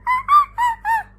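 A child imitates a monkey with four quick, rhythmic hooting calls, each short and pitched voice-like, close and clear against a quiet background.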